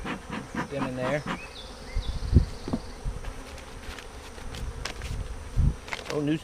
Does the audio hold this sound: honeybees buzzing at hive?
yes